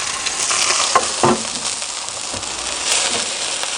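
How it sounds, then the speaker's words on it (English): A steak sizzles on embers inside a woodfired oven, giving a steady, close frying hiss with a few soft pops and crackles and no talking. "In there with a nice sizzle"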